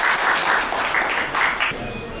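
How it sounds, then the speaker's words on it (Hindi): Brief, lively applause from the audience at a retirement ceremony, a dense burst of clapping that holds steady for a couple of seconds. "पहले जोरदार तालियां।"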